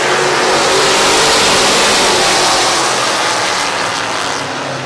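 A field of stock cars roaring off at the green flag on a speedway at the Midvale Speedway Fall Classic, a loud dense wall of engine noise that stays thick and steady and then eases off slightly toward the end.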